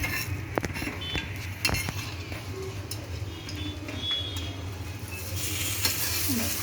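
Food frying in a pan until crispy, a constant close sizzle with scattered pops and utensil clicks as it is pressed and stirred, with a faint background coo.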